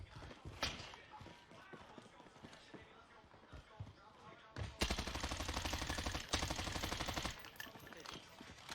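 Automatic gunfire pre-firing in the Warzone battle royale game, with rapid crackling bursts that grow loud and dense in the second half, after scattered quieter shots and movement.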